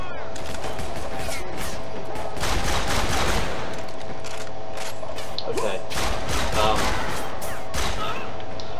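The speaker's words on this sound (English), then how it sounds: "I'm still stuck with bullets flying over my head" Gunfire in the video game Army of Two: The 40th Day, rapid bursts of automatic shots and loud bangs crackling close by in uneven volleys, with a voice briefly heard under the shooting.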